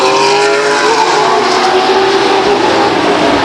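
Race cars roaring around the Stockton 99 Speedway oval, a loud continuous high-pitched engine drone with shifting whining tones as several cars pass, dense and unbroken throughout with no talk.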